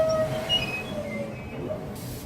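Southeastern high-speed train, unit 395015, pulling out of Gillingham station on a London St Pancras to Faversham service, its loud rail rumble near and steady, with thin wheel squeals ringing above.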